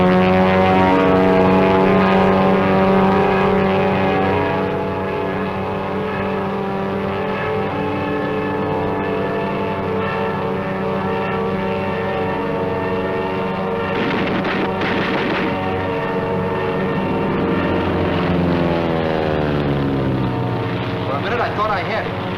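A Japanese Zero fighter plane with a radial engine drones loudly and continuously, its engine harmonics sliding in pitch as it passes, with a person talking faintly over it.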